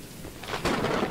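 Thunder crack with rain in the video game Choo Choo Charles, a broadband rumble swelling after a soft hiss of rainfall and holding loud to the end.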